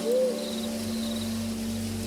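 An owl hoots steadily and fairly near, a low sustained call running through the whole stretch over faint insect-like background noise.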